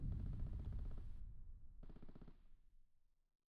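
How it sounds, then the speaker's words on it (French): Rapid bursts of automatic gunfire in a video game rattle in quick succession, two volleys separated by a short gap, fading out after the second. "On entend les coups de feu en plus."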